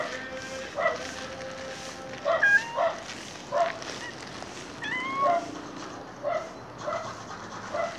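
Street cats gathering around a fish vendor on a morning street in Cebu, with a few short meows rising above a soft outdoor background, and a dog whimpering and panting nearby.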